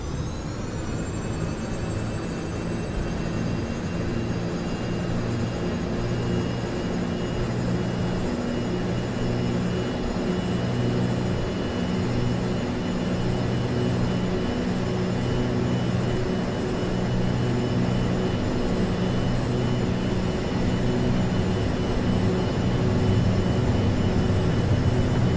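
Twin engines of a Boeing 737-200 spool up in the Prepar3D flight simulator, a steady loud jet roar with a rising whine that settles into a continuous drone, alone without talk.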